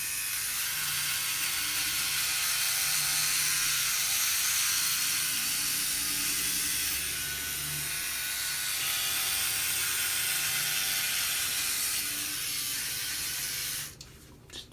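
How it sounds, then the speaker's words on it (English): A Philips OneBlade electric shaver buzzes steadily through a shave, a continuous close mechanical hum with a slight change in tone partway through, cutting off abruptly near the end. "let's finish up with this shave"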